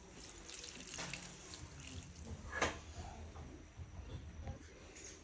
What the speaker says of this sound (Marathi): तर आता आपण ही पाण्याने धुवून घेऊ।